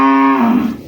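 A Sahiwal bull calf gives one loud, close moo lasting under a second, a steady tone that sags and roughens toward its end, with no one talking over it.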